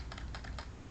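Keys clicking on a computer keyboard during data entry in Tally accounting software, a few quick close taps ending on the Enter key, with no one speaking.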